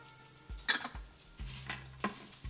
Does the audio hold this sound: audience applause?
no